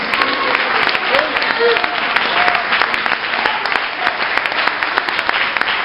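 An Assembleia de Deus church congregation applauds during an afternoon service, with sustained dense clapping, scattered shouts and voices mixed in, fairly loud and continuous.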